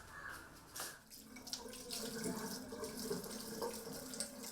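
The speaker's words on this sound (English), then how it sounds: "Wash your hands well" Tap water runs into a sink while hands are washed, a soft continuous splashing with brief louder surges, quiet and close.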